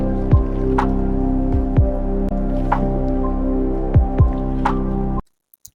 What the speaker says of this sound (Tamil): எண்ணெய் கடுகு உளுத்தம்பருப்பு கடலப்பருப்பு இது நல்லா பொரிஞ்சிடணும்